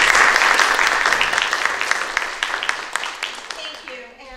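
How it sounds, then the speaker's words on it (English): A Novato, California audience gives a round of applause for local officials at a regional planning meeting, loud and dense at first, then thinning to scattered claps as it dies away. "Please give them all a round of applause"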